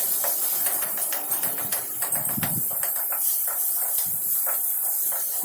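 Tomatoes and salt sizzling in a hot pan with a steady hiss, broken by scattered scraping stirs and soft taps of a spoon.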